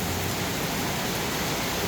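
Heavy rain pours down in Mueang district, Uttaradit, as a dense, unbroken hiss of water that stays loud and constant with no voices.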